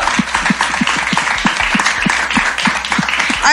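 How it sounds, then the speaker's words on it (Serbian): A studio audience applauds at the season finale of the Balkan Top Star show, with sustained, dense clapping over a steady rhythmic thump underneath. "Aplauz jedan"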